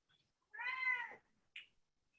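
Siamese cat giving one loud, drawn-out meow up close, followed by a brief soft chirp.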